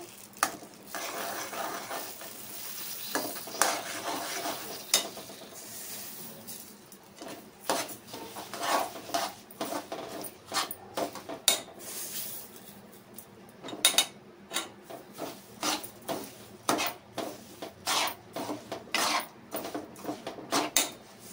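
A spoon scrapes and knocks around a pan as roasted sesame seeds are stirred into a winter laddu mixture, giving irregular close scraping strokes and metallic clinks with short pauses between them.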